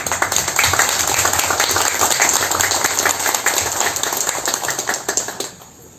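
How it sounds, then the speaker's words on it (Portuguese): Audience applause at a book launch ceremony for a railway history book, loud dense clapping filling the room steadily before tapering off near the end. "Uma salva de palmas."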